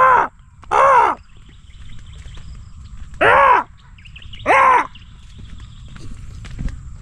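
Crows caw in four loud, hoarse calls, single and paired, spaced a second or two apart, close by over a quiet farm field where beans are being harvested.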